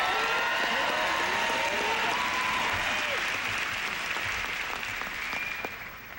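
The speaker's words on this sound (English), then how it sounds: "please give some applause to all the airmen and soldiers up here" A large crowd applauds airmen and soldiers gathered on stage at an Air Force base in Anchorage, Alaska, the dense clapping steady and loud before tapering slightly at the end, with faint voices threaded through.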